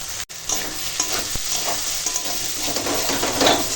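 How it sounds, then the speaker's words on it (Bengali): Loitta (Bombay duck) fish stirred in a pan as its water cooks off, a steady close sizzle with repeated scraping strokes of the spatula across the pan, no talking. "এইভাবে নেড়ে নেড়ে জলটাকে সব শুকনো করবো"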